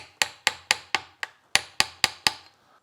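A hammer taps eight times in an irregular rhythm on a part of a 1966 Mercury Merc 110 9.8hp outboard motor gearbox, each strike sharp and close with a short ringing decay.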